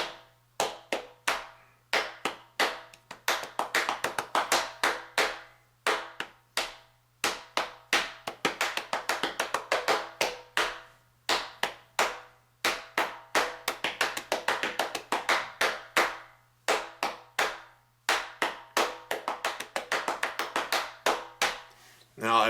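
Hand clapping beats out a song rhythm, crisp close claps in repeated patterned phrases with short pauses between groups, played alone without talk over a faint steady hum.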